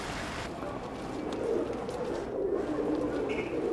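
Pigeons coo softly near Dongdaegu Station in the city of Daegu, low murmuring calls rising over faint urban background noise.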